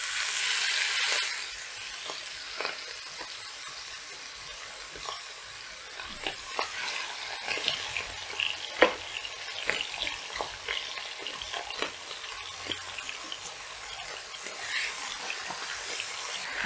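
Marinated chicken pieces frying in hot oil in a pan, a steady bright sizzle broken by scattered clicks and scrapes of stirring, close and continuous with no voices.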